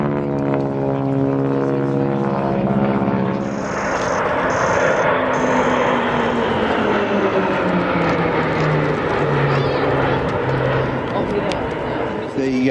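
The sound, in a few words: military aircraft with engines running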